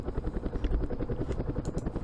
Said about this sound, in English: We're going to swing these helicopters up into one of these landing zones.